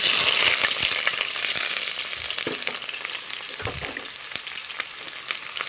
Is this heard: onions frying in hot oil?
yes